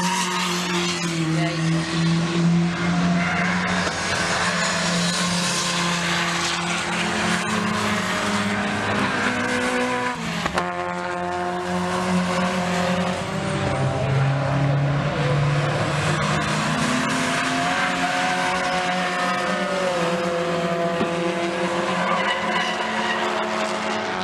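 Race cars lapping Castle Combe circuit at a summer action festival, engines droning and shifting pitch as cars pass, with tire squeal and a steady loud roar throughout.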